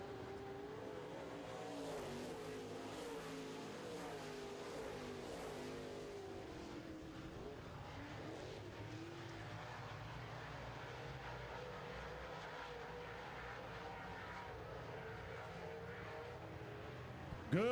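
Late model stock cars race around a short oval track, their engines a sustained, distant roar that rises and falls as the pack circles, steady throughout and fairly faint.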